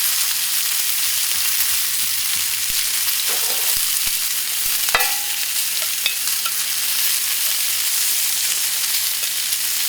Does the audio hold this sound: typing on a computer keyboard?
no